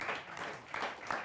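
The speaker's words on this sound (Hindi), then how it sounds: "समर्थन हो तो लाइन पे ताली बजा के मुझे आदेशित करें" Audience applause at a Hindi poetry event, a short burst of dense clapping with a couple of swelling peaks.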